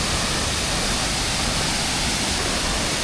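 A steady, loud roar of a two-tiered Sri Lankan waterfall, a broad unbroken rush of pouring water heard close up with no talking.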